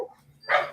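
A single short dog bark, close and sharp, after a brief faint whimper-like sound.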